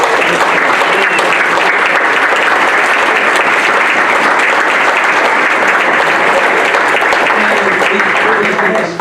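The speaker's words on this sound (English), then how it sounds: "So let's have a round of applause for the Hall of Fame golf team." A packed hall applauds steadily at a 2024 Waggener High School Hall of Fame induction ceremony honoring the golf team, a dense, loud wash of clapping that holds for about nine seconds before tapering at the very end.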